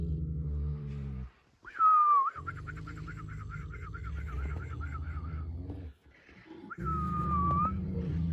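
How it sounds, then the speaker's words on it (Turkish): Human whistling to calm Kangal dogs, a warbling trill of rapid notes between two longer sliding tones, with a low rumble and voices around it. "ıslık bizde bir alışkanlık halidir. E, köpekleri sakinleştirmek için genelde çalarız"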